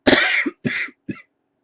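Three short coughs from a person, a longer harsh burst followed by two quicker, weaker ones close to the microphone, with silence between them.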